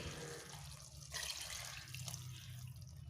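Water poured from a vessel into a pot of chicken and raw plantain curry makes a steady splashing, running sound with no talk. It grows a little louder partway through.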